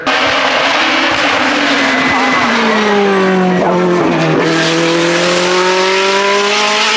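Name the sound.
race car driving past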